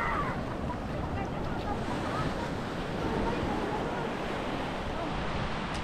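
Ocean waves at sea roll and wash continuously beside a boat, a broad steady surf rumble with some wind buffeting the microphone and no clear talk.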